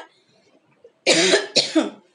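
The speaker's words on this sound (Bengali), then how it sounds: "দেখো শেষে শেষে একটা কাশি উঠে গেল" A single person coughs twice in quick succession, close and loud, after a near-silent pause, with a faint trailing throat sound.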